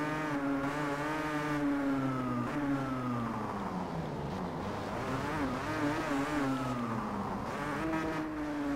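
Two-cylinder 500cc two-stroke racing motorcycles in the video game Valentino Rossi The Game whine steadily at moderate volume, their pitch sweeping up and down as they accelerate and shift, with no talk.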